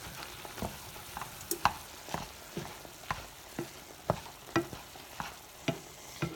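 Beef browns in a pan with a soft frying hiss, punctuated by repeated scraping and stirring strokes of a utensil at irregular intervals, moderately close.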